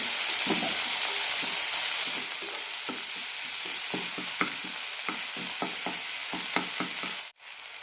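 Small-chopped tomatoes fry in a pan for a veg chapathi roll filling, a close hissing sizzle with repeated stirring scrapes, the sizzle easing after a couple of seconds and a brief dropout near the end.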